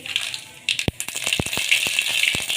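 Sharp crackles and pops burst irregularly over a steady sizzle as mustard seeds splutter in hot oil close by.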